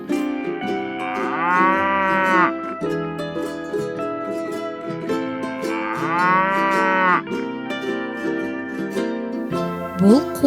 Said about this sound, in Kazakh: Сиыр мөңірейді.